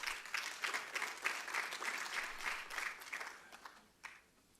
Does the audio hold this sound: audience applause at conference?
yes